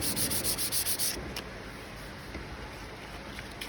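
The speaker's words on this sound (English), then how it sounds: "I'm just sanding it very lightly," Light, rhythmic rubbing strokes of hand sanding to feather out a surface on an El Camino, about eight quick passes close by, then a quieter scratchy stretch with a few faint strokes.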